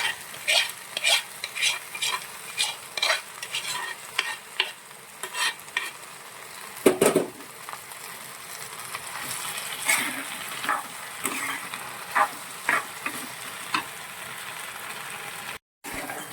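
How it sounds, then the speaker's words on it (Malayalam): A spoon stirs cooked prawns and raw plantain into a spiced coconut paste in a pan, giving repeated scraping, clacking strokes in an irregular rhythm over a soft, steady sizzle, close and fairly clear. "നമ്മൾ ഇത് നന്നായിട്ട് മിക്സ് ചെയ്യുവാണ്."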